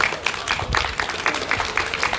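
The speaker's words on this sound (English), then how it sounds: "Let's give them a good round of applause" An audience claps for the Royal Bahamas Defense Force band at an outdoor cultural wine and food festival in Fort Charlotte, a brief burst of fairly close, rhythmic hand claps with faint voices mixed in.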